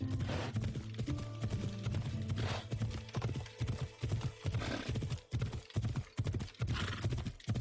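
Rhythmic clip-clop of horse hooves galloping in Assassin's Creed Odyssey, steady and close over a game score.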